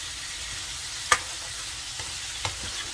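Pork cooking in a pan is stirred, giving a quiet, continuous sizzle with one sharp spatula scrape and a couple of fainter scrapes, heard close with no talking.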